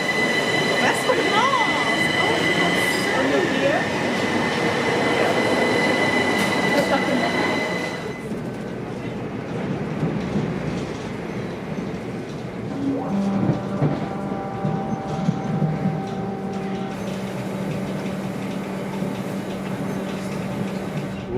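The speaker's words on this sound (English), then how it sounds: "And here's the train." A train rumbles past up close, loud and continuous, with wheels squealing and metallic screeches as it slows; faint voices in the background.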